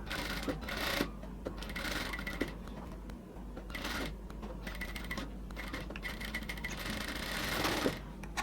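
Sewing machine stitching doubled piping around the neck of a baby frock, a steady, fairly quiet mechanical whir with small clicks running continuously throughout.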